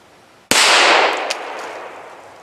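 A single sharp shot from a small pocket pistol, .25 ACP or .22 LR, cracks out suddenly and loud, then rings and decays over about two seconds with no voices.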